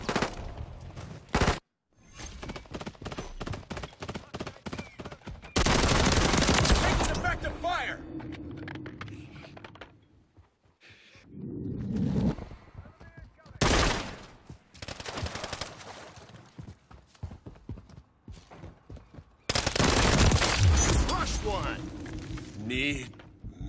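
Gunfire in the Call of Duty Modern Warfare III video game, rapid automatic bursts and single shots in clustered volleys with loud heavy stretches and brief pauses, voices speaking intermittently between the shots.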